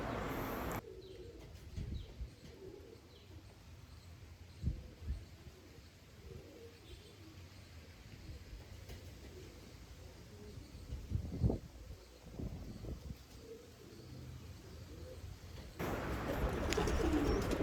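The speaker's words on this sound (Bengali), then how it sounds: "খুব ভালো কোয়ালিটির পায়রা এটা।" Andhra and Malwai fancy pigeons coo softly in a loft, with intermittent murmuring calls, a few louder bursts, and a faint steady background hum.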